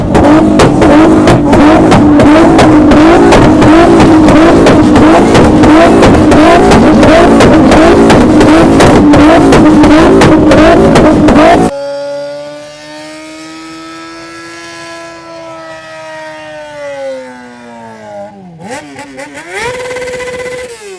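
Engines revving hard at a car and motorcycle meet: loud, rapid pulsing throttle blips for about twelve seconds, then a steady, quieter engine drone with rising and falling pitch sweeps.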